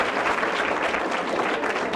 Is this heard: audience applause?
yes